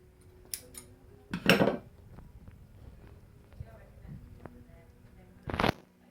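The end of a cable for a 3.5 mm jack to RCA lead is snipped off. Sparse quiet clicks and two short, crisp cutting snips stand out against a near-silent background.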